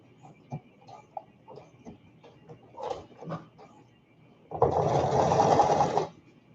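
A sewing machine stitches a Valentine's Day garland in one loud, even burst of about a second and a half. Quieter clicks of fabric handling come before it.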